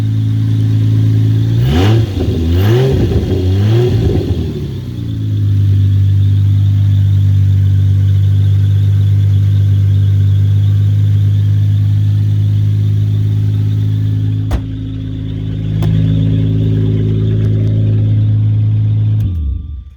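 A 1995 Jaguar XJ12 with its 6.0-litre V12 idles steadily and close by, with a few brief revs early on before settling into a smooth, even hum until it is shut off at the end.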